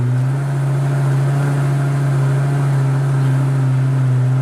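A 2007 Lamborghini Gallardo's engine runs in sport mode with a loud, steady, close, droning tone that holds at a constant pitch with no voices.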